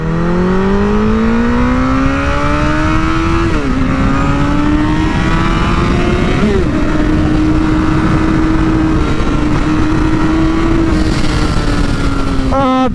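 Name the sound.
2017 Honda CBR1000RR motorcycle accelerating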